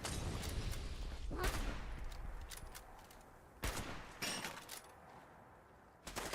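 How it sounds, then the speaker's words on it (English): Rifle gunfire in Fallout 76, a burst of rapid close shots followed by scattered separate bangs, loud and sharp against a quieter background. "Oh, my fucking rifle's going now."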